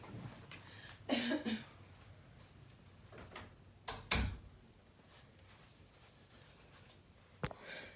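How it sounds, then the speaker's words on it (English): Indoor door handling: a few knocks and rattles, then a loud thud of the door shutting around the middle, and a sharp click later, with quiet room noise in between. "let me close the door"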